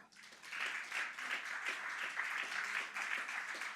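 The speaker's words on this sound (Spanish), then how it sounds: "Un aplauso, Señor." Applause from a church congregation during a sermon, a steady, moderately distant wash of clapping that swells in and carries on throughout, with no one speaking over it.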